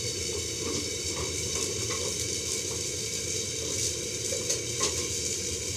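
Cumin seeds and green chilies sizzle in hot oil in a home kitchen, a steady close crackling hiss with small pops and faint stirring clicks, no voices.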